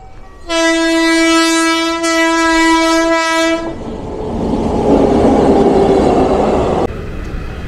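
A train passes close by on a road trip to Murshidabad, its loud sustained horn blaring for about three seconds before giving way to the rushing rumble of rail cars rolling past.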